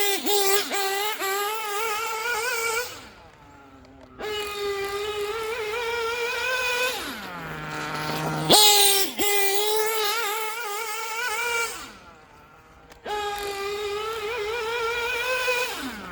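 A Gimar P5 nitro engine in a Hyper 7 RC buggy screams at a high pitch in sustained revving bursts, rising and falling, broken by short quiet pauses and idle drops.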